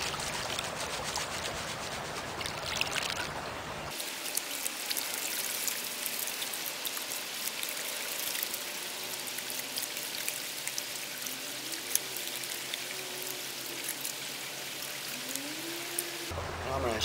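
Water swirled around in a gold pan while prospecting, a continuous sloshing, trickling wash that runs close and fairly loud throughout, with no talk over it.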